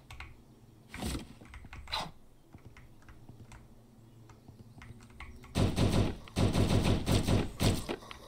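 Bursts of gunfire in the zombie survival game Last Hope Bunker: two short separate shots early, then a loud sustained rapid-fire volley near the end over a low ambient hum.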